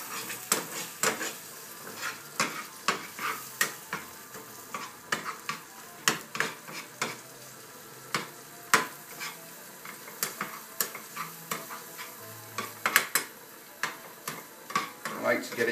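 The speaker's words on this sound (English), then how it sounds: "scramble it all up, turn the heat down to very low" Eggs being scrambled in melted butter in a pan over very low heat, with a long series of sharp utensil scrapes and taps against the pan over a soft sizzle, close and steady throughout.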